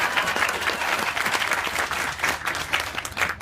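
A conference audience at a Blue Green Alliance gathering bursts into steady, dense applause, many hands clapping together close by for a few seconds without pause.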